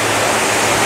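An indoor waterfall at Changi Airport in Singapore gives a loud, steady rushing roar of water falling from height, close and unbroken.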